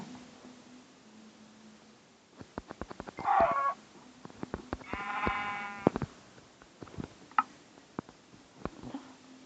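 Minecraft sheep bleat in short wavering calls amid sharp clicking taps, a game-like mix of animal cries and clicks.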